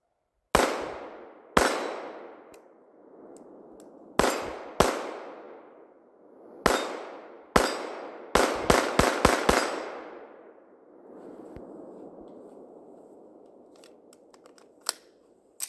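A Beretta 92FS Inox pistol fired outdoors with a deliberately limp wrist: a dozen loud, sharp shots ringing with echo, spaced apart at first and then in a quick string, followed by faint rustling.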